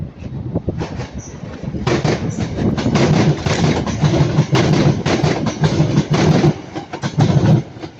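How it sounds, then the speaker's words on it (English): A Northern passenger train passes at Ardwick with loud rolling wheels and a rhythmic clickety-clack over the rail joints, rising at the start and continuing close by. "There goes 32312, my baby Northern, going from Manchester Piccadilly to Hatfield."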